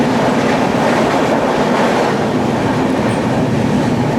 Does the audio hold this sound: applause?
no